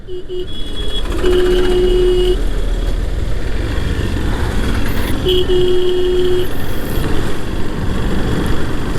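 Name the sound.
vehicle horn honking on road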